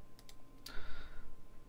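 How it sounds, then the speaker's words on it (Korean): Computer mouse right-click, a few sharp close clicks in quick succession followed by a brief faint chime, over quiet room background with no talk. "마우스 차트에서 마우스 오른쪽 클릭"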